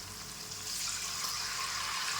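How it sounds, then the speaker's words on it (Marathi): Water poured into a pan while raw banana chips are being prepared at home; a steady, soft splashing trickle that swells slightly after the first moment and runs on alone without talk. "हे पाणी टाकून घ्यायचं"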